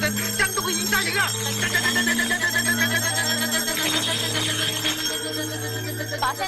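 A loud, continuous ringing of bells from a mystical confrontation on water, jangling steadily throughout over a constant low drone, with shouting voices and dramatic music layered on top.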